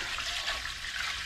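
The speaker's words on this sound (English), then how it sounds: "This is a gallon pitcher I'm pouring out of." Water pours steadily from a gallon pitcher into a pressure canner in a home kitchen, a continuous close splashing gush with no talk.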